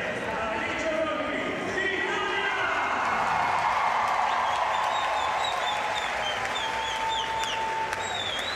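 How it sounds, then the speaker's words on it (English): Crowd at the 2023 fencing world championships in Milan reacting after a women's foil semi-final bout, a sustained roar of cheering and clapping with whistles, steady and loud throughout. "You can hear the reaction in the crowd as Volpi made it through"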